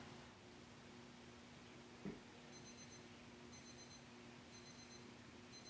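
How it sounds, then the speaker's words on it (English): A Tokyo Flash Kisai wristwatch alarm goes off: thin, high electronic beeps in repeating clusters, faint and close, over a steady background hiss after a brief soft knock. "The watch also comes with an alarm."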